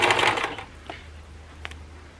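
A sewing machine stitches a fabric potholder, running a reverse-then-forward reinforcing stitch: a brief, busy whirring burst up front, then quiet with a couple of faint clicks.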